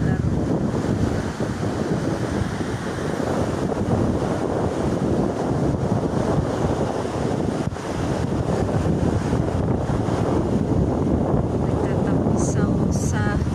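Waves and wind on a beach on Guimaras Island at sunset, heard as a steady broadband wash of surf with wind buffeting the microphone, continuous and fairly loud throughout.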